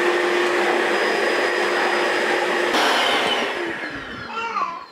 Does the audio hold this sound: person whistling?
no